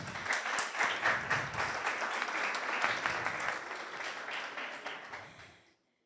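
Audience applauding at a conference talk, a burst of dense clapping from a crowd that holds steady for several seconds then fades out quickly.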